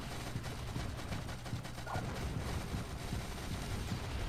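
Rapid gunfire in the shooter game Shadowgun Deadzone, a dense burst of sharp crackling shots at a steady level over a busy game soundtrack, with no clear talking.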